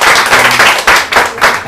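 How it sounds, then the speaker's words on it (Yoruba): An audience claps in a Yoruba comedy setting, with dense applause swelling in several bursts across a short stretch, loud and close, with no voices over it. "ẹ pàtẹ́wọ́ fúnra yín"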